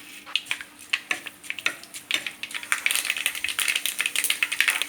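Mustard seeds drop into hot oil in a pan and start popping, a string of sharp crackles and sputters that grows denser and busier as the seeds heat.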